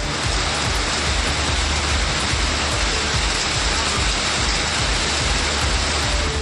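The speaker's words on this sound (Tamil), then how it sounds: "காற்றுடன் பெய்த திடீர் மழையால் பொதுமக்கள் மகிழ்ச்சி அடைந்தனர்." Heavy, steady downpour with wind in a Tamil Nadu town during summer heat, a dense unbroken roar of rain close by that holds constant throughout with no voices.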